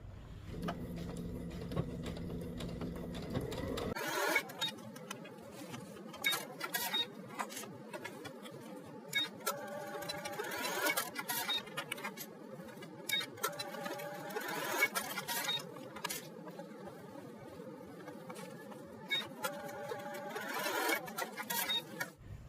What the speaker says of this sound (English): we're going to take it to the machine and we're going to baste them down to the actual shirt